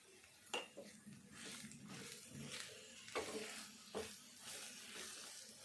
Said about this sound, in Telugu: అంతా ఒకసారి కలిసేటట్టు ఈ నూనెలో మంచిగా కొద్దిగా గోలాలి ఇదంతా.